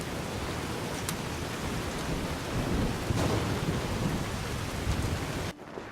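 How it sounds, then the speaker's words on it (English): Steady thunderstorm rain from the Nevada-skies weather in the Fallout: New Vegas Mojave, a dense hiss of downpour with a couple of thunder cracks and rumbles, loud and constant until it cuts off near the end. "Shouldn't be raining all the time in the Mojave anyways."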